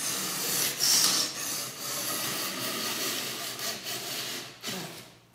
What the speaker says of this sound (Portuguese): É como se fosse, estivesse lixando, né?